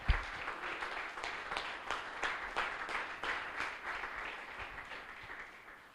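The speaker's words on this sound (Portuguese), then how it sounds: "Vamos aplaudir o Espírito Santo que nos faz entender esses mistérios." A church congregation applauds in a steady run of rhythmic claps lasting several seconds, fairly faint and reverberant, fading slightly toward the end.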